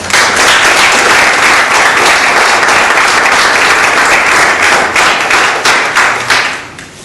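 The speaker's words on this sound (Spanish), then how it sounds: "les pido podamos recibir con un afectuoso aplauso" Loud, sustained applause from an audience welcoming a presenter at a book launch, dense steady clapping that holds for several seconds before thinning and fading toward the end.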